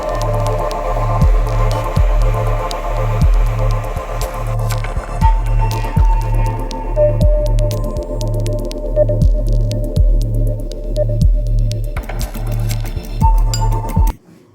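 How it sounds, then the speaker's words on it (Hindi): A kitchen blender grinds green masala for fried fish with a steady low motor hum and a regular throbbing pulse, with small clinks on top. It runs continuously for about fourteen seconds, then stops abruptly. "इसमें ब्लेंड करके आते हैं।"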